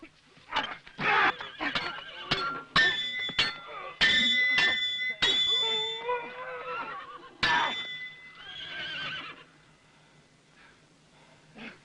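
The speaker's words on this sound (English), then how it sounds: "A horse!" Horse whinnying in a dramatic setting, several loud drawn-out neighs mixed with sharp clattering hits and short bursts, close and prominent.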